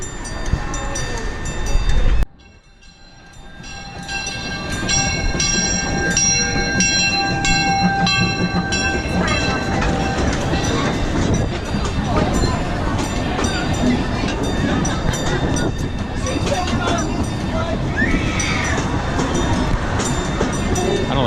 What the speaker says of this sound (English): We're waiting for the train to come by.